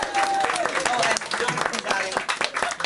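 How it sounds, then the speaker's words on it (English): Audience applause from a live show crowd, steady dense clapping throughout with a few cheering voices rising over it, close and loud. "Round of applause."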